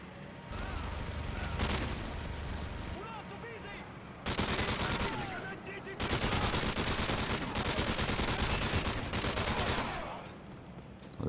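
Rapid light machine gun fire in MW3 Survival mode, dense sustained bursts of shots broken by short pauses, loud and close throughout.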